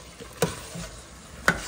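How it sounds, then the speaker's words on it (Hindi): Dal is roasted and stirred in a pan. A soft, continuous frying hiss carries two distinct metallic scrapes or knocks, moderately close and without speech. "अब इसको भूनेंगे हम फिर दोबारा"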